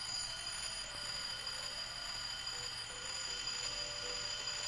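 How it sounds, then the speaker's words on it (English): Quiet alarm in the Toca Life hospital video game sounds as a steady high-pitched electronic ringing, continuous and faint throughout with no speech over it. "Oh my gosh, the alarm is going off."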